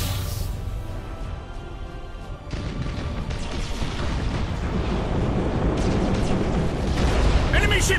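Starship cannon fire and explosions rumble through a space battle in Battlefleet Gothic: Armada, a dense, continuous roar of booms and blasts that swells toward the end, with a player speaking over it.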